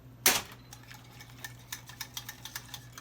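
A spoon stirs brown sugar into two cups of Frank's red hot sauce in a bowl. A sharp clink opens it, then light, fairly regular ticking taps follow, quiet and close, with no talking.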